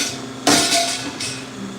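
Two clanking taps strike a bucket holding large ice crystals, a loud metallic hit followed by a second, lighter knock less than a second later, each ringing briefly.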